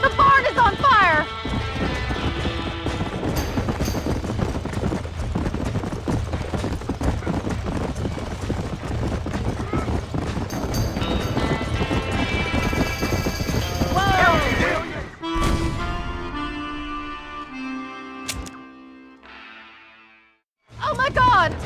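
Horse hooves gallop in Red Dead Redemption as a barn burns, a steady clip-clop rhythm running under urgent shouting voices and mechanical clatter, then the hoofbeats fade out near the end.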